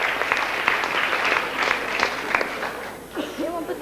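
Audience applause for a musician at a concert, a dense steady clapping that fills the space, with a brief dip near the end.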